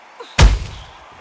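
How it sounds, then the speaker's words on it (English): A single hard, heavy punch landing in a kickboxing bout, one sharp booming thud after a soft faint tap, close and loud, ringing briefly before fading. "Punch, counter punch."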